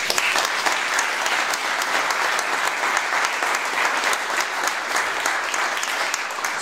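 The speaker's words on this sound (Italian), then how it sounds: "fategli un applauso" Sustained, dense applause from an audience at an evening political talk, steady and even throughout with no speech over it.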